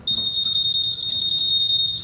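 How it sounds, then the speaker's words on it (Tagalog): A single high-pitched electronic alarm tone from a Honda ADV 350 scooter's anti-theft alarm sounds continuously and loudly over faint low background noise. "On na yung alarm."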